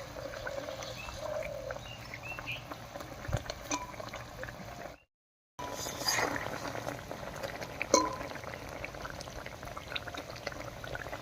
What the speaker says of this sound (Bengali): জলটা খুব ভালো করে ফুটে গেছে